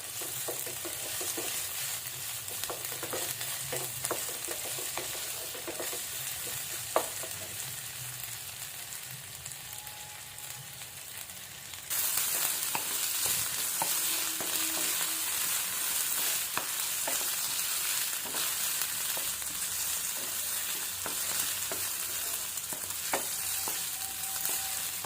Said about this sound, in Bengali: আলুটা একটু পেঁয়াজের সঙ্গে নেড়ে নেবো তেলে